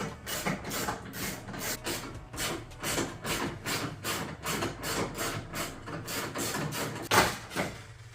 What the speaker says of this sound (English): you're going to want to use an 8mm socket to take these out